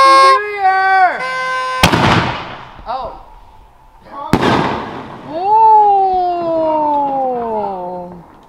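Fireworks boom on New Year's Eve, two sharp, loud blasts sounding close by with crackling tails, while people talk and exclaim in between and afterward.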